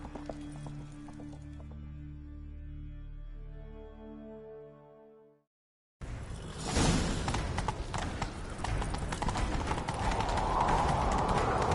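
Horse hooves clip-clop in the Witcher 3 video game during a Skellige Kingsmoot chase, a rhythmic gallop beginning after a brief gap, loud and close amid rushing wind and movement noise, with no talk.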